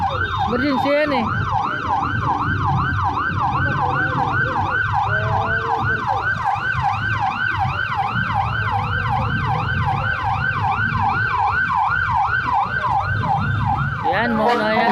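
A loud ambulance siren wails continuously on a road in Pasay City, its rising and falling tone cycling rapidly and steadily throughout, with traffic rumble underneath.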